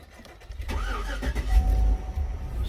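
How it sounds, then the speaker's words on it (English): A Chevrolet Suburban with a 5.3 engine that had an ignition misfire cranks briefly and catches, then revs up and settles toward a rough idle close by. "So let's start it up. All right, so let's fire it up."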